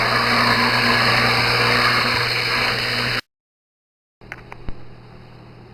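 A motor whirs steadily for about three seconds while liquid laundry soap is mixed, cuts out abruptly into silence, then restarts with a few brief knocks and clicks.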